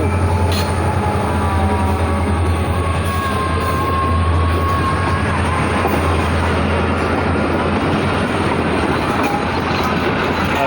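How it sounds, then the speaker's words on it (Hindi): A Pakistan Railways train hauled by a GMU 30 locomotive arrives at Samanabad station, a loud continuous roar of rolling wheels and rumbling engine close by, with steady rail clatter and occasional squeals throughout. "पीछे हो जाओ, ट्रेन आ गई, पीछे हो जाओ सारे"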